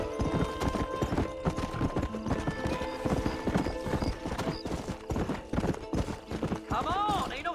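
A horse ridden at pace in a Wild West game beats out a steady, rhythmic clip-clop of hooves on ground, close and clear, with a short whinny near the end and a voice speaking over it.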